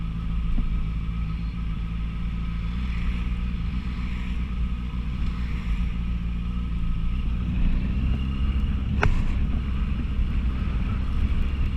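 Steady engine drone of a 2015 Honda CBR650F motorcycle while riding in Sceaux, with heavy wind rumble buffeting the microphone throughout.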